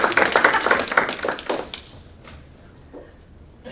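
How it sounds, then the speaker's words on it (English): A history lecture audience claps warmly for the speaker for a couple of seconds, the crowded applause quickly thinning to a few last claps and then falling into near silence. "join me in a round of applause"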